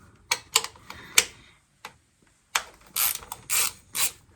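Ratchet clicking while undoing bolts on a BMW E36 during an oil leak repair: several short, sharp bursts of ratcheting, close and loud, separated by brief pauses, with no talking.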